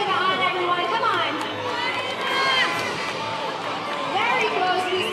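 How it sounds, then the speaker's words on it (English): A crowd of children and adults cheers and shouts continuously during a balloon-bursting game, loud excited chatter and whoops layered over one another throughout. "Let's cheer it on, everyone."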